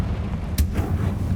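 A Confringo fire spell from Hogwarts Legacy goes off as one sharp, booming blast partway through, set against a low rumbling game background.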